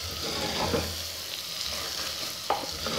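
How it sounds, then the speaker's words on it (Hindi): Hot water poured into sizzling moong-masoor dal masala in a clay handi, giving a steady close frying hiss with faint stirring clinks and a brief splash near the end, no talking. "बस अब इसमें गर्म पानी शामिल करूँगी"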